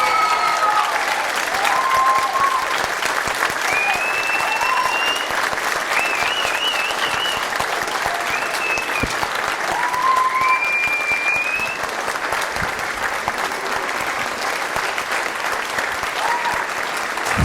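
Big round of applause from a live audience after a musical comedy performance, dense sustained clapping with whoops and whistles throughout.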